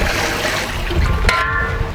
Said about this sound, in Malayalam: ഇനി നമുക്ക് ഒരു 2 പാത്രം വെള്ളം ഒഴിക്കാം.